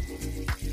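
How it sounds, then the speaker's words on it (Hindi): Water pours and splashes in a steady gush while a BMW car part is rinsed, with a brief surge in the middle, close and continuous. "पहले गर्म पानी डालेंगे उसके बाद पानी का प्रेशर से हम दोस्तों इसे क्लीन करेंगे।"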